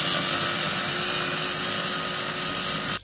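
Blender whirring loudly and steadily as it purées roasted red peppers, added one at a time to a small blender jar, a constant close motor drone that cuts off at the end.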